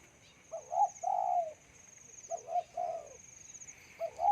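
A male spotted dove coos at its nest in repeated soft, rhythmic phrases, fairly close and clear over a faint steady insect-like whine in the background.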